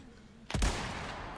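A single sharp gunshot from the PS5 video game Resident Evil 4 cracks out loudly after a quiet lead-in, followed by a lingering reverberant tail.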